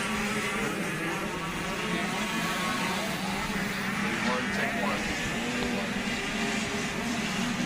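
Gas and electric KTM motocross bikes race at a motocross track, engines droning and buzzing steadily in a continuous wash of noise with a commentator talking over them.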